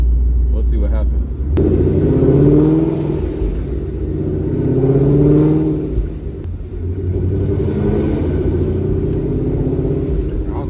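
A D-1X ProCharger-supercharged Mustang engine rumbles and surges through repeated revving pulls, a loud, deep, close drone with rising swells under a person's voice.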